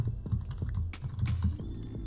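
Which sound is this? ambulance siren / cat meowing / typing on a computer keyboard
typing on a computer keyboard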